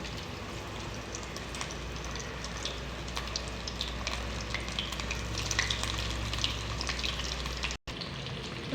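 Chicken coated in breadcrumbs and flour frying in hot oil over a medium flame, a steady dense sizzle and crackle that runs unbroken and fairly close, with a brief dropout near the end.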